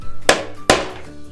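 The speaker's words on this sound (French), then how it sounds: "On peut faire avec le marteau sinon." A hammer strikes a coconut to crack it open, two sharp hard knocks about half a second apart, close and loud, each with a short hollow ring.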